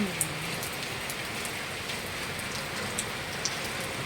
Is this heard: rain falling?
yes